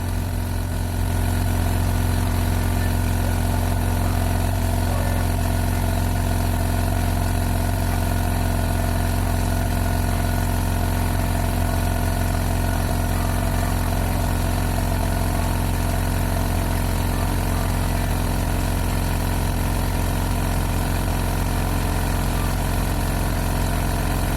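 An H&L N1 oilless air compressor, 1/4 HP with a 30 L tank, runs continuously up close with a loud, steady motor drone and constant mechanical hum, no voices over it.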